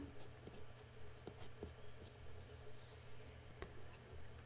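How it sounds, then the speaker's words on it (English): Soft, steady scratching of a white watercolor pencil over a watercolor painting, adding detail with short, quiet strokes and a few faint ticks, close by with no talking. "Now I've got a white pencil and I'm doing the same thing."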